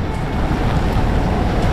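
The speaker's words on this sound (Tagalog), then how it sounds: "Grabe, lakas ngayon ng bagyo." A strong typhoon wind roars outdoors in a steady, loud, dense rush with heavy buffeting on the microphone, and no break in the noise.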